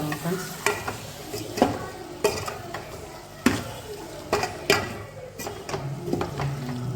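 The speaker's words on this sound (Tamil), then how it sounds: "அதனால் நல்லா கிண்டி விடணும் ஃப்ரெண்ட்ஸ்" A spoon scrapes and stirs masala through chicken curry in a pan, a series of uneven knocks and scrapes over a low sizzle, with soft voices faintly in the background.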